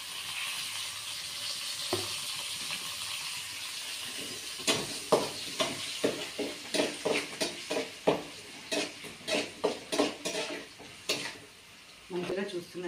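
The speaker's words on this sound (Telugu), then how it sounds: "సాల్ట్ యాడ్ చేశాక కొంచెం రెడ్డిష్ కలర్ వచ్చేలా ఫ్రై చేసుకోవాలి." Egg fried rice frying with curry leaves in a pan, a low sizzle under a voice followed by a run of rhythmic scraping and stirring strokes against the pan, loud and close.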